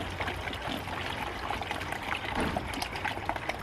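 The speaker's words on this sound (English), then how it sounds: "top up the coolant then with just regular water. We'll just fill this up to the maximum" Regular water pouring into the coolant tank of a BMW E46 being topped up after a coolant flush, a close, continuous trickling and splashing with no talk.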